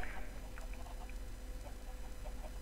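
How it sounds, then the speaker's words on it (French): Chickens cluck in a video game chicken farm, scattered soft clucks and short calls over a low steady background hum, moderately faint and continuing throughout. "vous allez avoir les poules qui vont pondre. Il y en a énormément."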